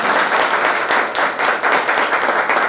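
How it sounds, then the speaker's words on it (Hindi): Dense, steady applause from a large audience at a business meeting, sustained loud clapping that fills the room with no speech over it. "इसलिए जोरदार ताली एक बार गैलवे बिजनेस के लिए"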